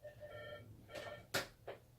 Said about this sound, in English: we have the phone ringing